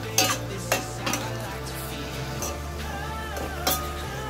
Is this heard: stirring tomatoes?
yes